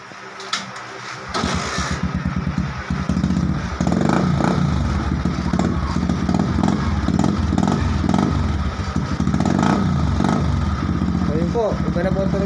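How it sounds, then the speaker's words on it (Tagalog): A Motorstar TMX Alpha 125 motorcycle engine idles and revs repeatedly through a loud stock exhaust pipe, close by, with brief bursts of throttle over the rumble. "pakikinggan po natin yung tunog niya. Pag naikabit na po yung tambutso."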